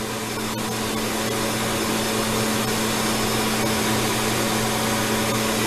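A Glenwood Model 7020 boiler runs at full burn during a test, giving a loud, steady broadband roar with a constant low hum and no pauses.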